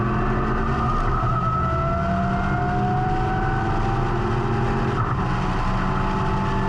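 A Lotus race car accelerates on the Paul Ricard circuit during a Trophée Lotus race, its engine note climbing steadily in a loud, close, continuous whine with no talk.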